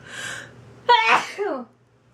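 A single loud, close human sneeze, a sharp breathy burst into a wavering voiced release, preceded by a short inhale.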